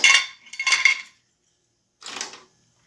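Glass canning jars and metal pan lids clink against each other in a kitchen during pasteurization prep, two quick bursts of clattering close by, a pause, then a third.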